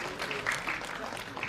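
An audience at a school's annual function claps for sixth-grade schoolgirls, a short burst of scattered, moderately loud applause mixed with voices.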